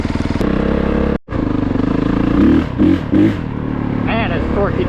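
A 2022 Honda CRF450RX dirt bike rides an offroad park trail in Indiana, its engine thrumming steadily up close, with a few sharp revving bursts and throttle blips partway through and a brief dip in the sound.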